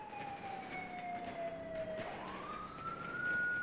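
Police car siren in a video game, heard faintly at a distance, its wailing tone sliding down and then rising again over a low background of ambient noise.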